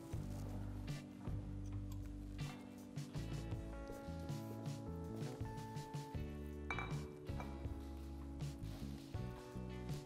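Tuna salad being mixed in deep plates, with dishes and cutlery clinking and scraping steadily in the foreground over a kitchen background.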